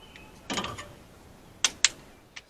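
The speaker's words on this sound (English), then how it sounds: "All our head bolts are torqued down for the driver's side." A torque wrench tightens head bolts on a 1976 Chevy El Camino engine, with a rough ratcheting burst followed by a few sharp close clicks, no talking.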